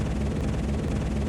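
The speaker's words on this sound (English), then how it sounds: "And then I took out a part of the helicopter sample and looped it." Looped chunk of a helicopter recording from the Dune soundtrack world, dry with no processing: a steady, dense low rumble with a broadband whooshing wash, continuous and even throughout, no voices.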